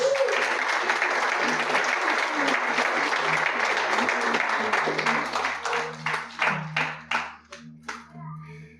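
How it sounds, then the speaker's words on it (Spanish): A church congregation applauds loudly and steadily, then the clapping thins into scattered claps that fade out, with faint voices underneath. "Denle un aplauso a Jesús"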